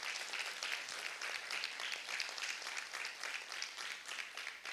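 A church congregation applauds, a dense, steady wash of many hands clapping at a moderate distance, sustained evenly throughout without breaks.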